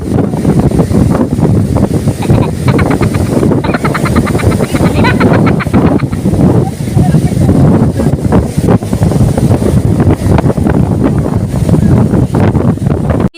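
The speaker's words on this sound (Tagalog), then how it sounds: "Di nga umuulan mga bi, pero napakalakas naman talaga ng hangin" Strong wind at a beach during a storm roars and buffets the microphone without letup, with the rush of sea surf underneath.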